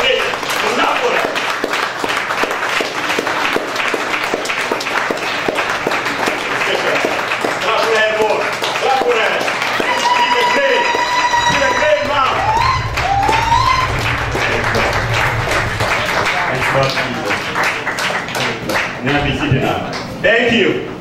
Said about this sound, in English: we need to clap for them. Clap for them high.